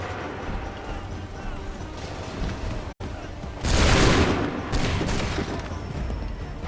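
A single loud musket volley from a line of soldiers in the Assassin's Creed III video game bursts out after a stretch of steady battle noise, its roar trailing off over a couple of seconds under a faint voice.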